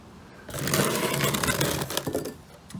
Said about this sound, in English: I'll dry sand it just a little bit.